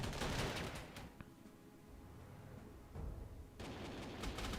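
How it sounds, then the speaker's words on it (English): Anti-aircraft gunfire in the wartime strategy game Panzer Corps 2, a faint distant volley of rapid cracks that fades to a low rumble, then returns as another burst near the end. "Anti-aircraft shooting at the"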